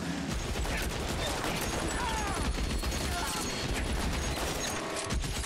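Thompson submachine gun with a stick magazine fires in L.A. Noire, dense overlapping gunfire bursts filling a busy game battle with voices mixed in throughout.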